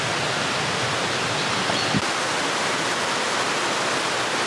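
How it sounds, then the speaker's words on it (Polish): A waterfall on Koh Samui, seen from below, gives off a steady broadband roar of falling water that stays constant throughout, with one brief click partway through and no voices. "doszliśmy do pierwszego takiego wodospadu, który widzimy od dołu"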